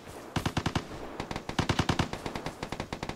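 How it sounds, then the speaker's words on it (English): Rapid bursts of VSS suppressed rifle fire from the game Vigor, a string of quick sharp shots in several clustered volleys with brief pauses between, loud and close, with no voices. "considering the fact of how I don't hear any gunshots back, not until now, that's a VSS"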